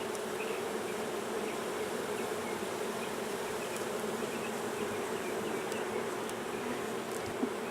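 Honey bees buzzing steadily around an open hive during an inspection, a dense continuous hum near and even throughout with no talk.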